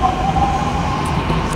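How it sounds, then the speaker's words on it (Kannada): A Mumbai metro train pulling away, a loud, close, steady rumble with a sustained whining tone over it, lasting the whole moment without pause. "ಈಗ ಮೆಟ್ರೋ ಹೋಗ್ತದೆ"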